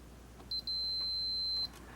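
Continuity tester beeping while probing a repaired circuit board lead, one short high beep followed by a longer sustained tone over faint background hiss.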